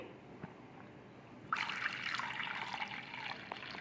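A thin stream of water is poured into a bowl of rice flour, starting suddenly and running steadily for a couple of seconds, close and fairly quiet.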